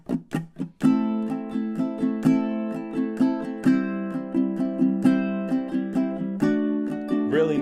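Strummed ukulele chords follow a lilting 6/8 pattern with steady rhythmic strokes and chord changes, played close and clear with no voice.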